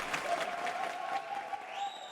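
Applause rises from a small audience at a game-show-style decision moment, a steady patter of clapping that holds at moderate loudness for a couple of seconds.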